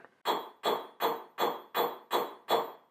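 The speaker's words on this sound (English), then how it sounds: "Now I'm going to forge my rod down." Seven evenly spaced, sharp hammer blows ring out as a cast metal ingot rod is forged down, each strike loud and close with a short metallic ring that decays before the next.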